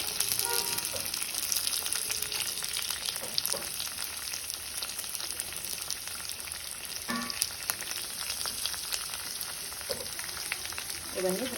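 Cumin, mustard seeds, dried chillies, curry leaves and onion fry in hot oil with a continuous crackling sizzle, faint and steady, dotted with small pops and occasional spoon clinks.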